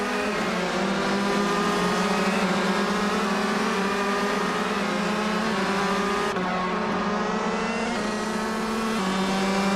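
Shifter kart engines in a racing video game at the Algarve circuit, a steady, loud high-pitched buzzing drone of several karts running close together, with a brief shift in pitch partway through and no break in the noise.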